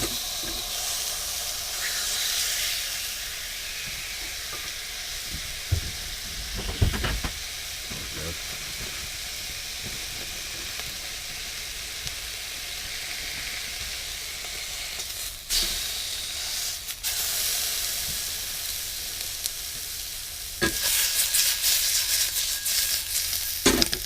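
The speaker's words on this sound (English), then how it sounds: "Duck crackling, guys. So a bit of the stir fry." Duck crackling stir-fries in a wok, giving a steady, close fizzing sizzle throughout with occasional clatters and scrapes of stirring and a louder burst of frying toward the end.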